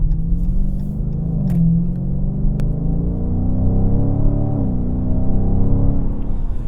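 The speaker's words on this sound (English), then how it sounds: "There's a different hum as you're motoring along." Low, steady rumbling hum of a 2017 Dodge Challenger R/T Scat Pack V8 while cruising, heard from inside the car as a continuous droning engine tone that rises gently in pitch and shifts slightly midway, loud and close without talk.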